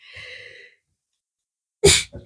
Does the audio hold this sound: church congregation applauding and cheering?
no